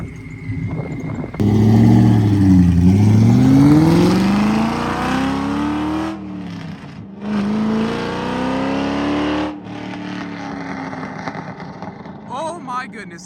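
A supercharged Ford Cobra with a 4-valve V8 revs loudly nearby in a shop, rising and falling through several bursts with pauses between, ending in a rough idle.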